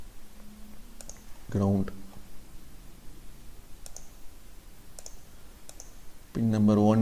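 Sharp, sparse computer mouse clicks made while working in circuit software, single taps spread across the clip under a voice that speaks in short bursts.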